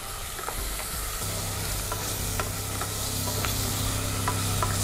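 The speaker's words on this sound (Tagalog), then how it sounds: "Stir fry natin para pumula." Food stir-fries in a pan with a steady, dense sizzle, while a utensil scrapes and taps the pan in faint, scattered strokes; close and continuous, no talking.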